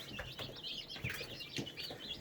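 Several young turkey poults chirp and peep in a brooder, a dense run of high, overlapping calls with a few soft flutters and low bumps, close and fairly steady.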